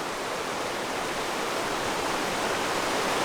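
A spring stream rushing straight out of the bottom of a cave at a creek source in the Ozarks, a dense, steady broadband roar close by with no breaks.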